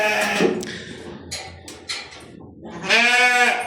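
Pregnant goats bleat nearby, one short cry at the start and a longer, wavering bleat at the end, with quiet shuffling between.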